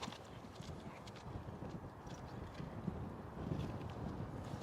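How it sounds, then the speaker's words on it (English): A horse trotting on a cross-country course, steady hoof clip-clops under constant wind noise buffeting the microphone, with no talk heard. "Next one, just go for a trot."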